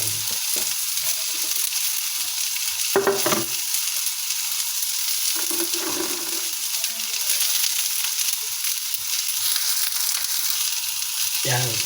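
String beans stir-fry in a hot pan, giving a steady loud sizzle with occasional bursts of spatter and stirring scrapes, close up and continuous with no talk.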